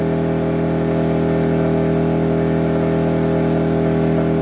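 Bilt Hard 1800W inverter generator engine running flat out at full load, about 4900 RPM, a loud, steady, close drone with a strong even hum that stays constant throughout.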